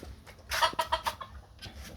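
Native desi hens cluck in a short burst of several quick, close calls, then quiet down with a softer cluck at the end.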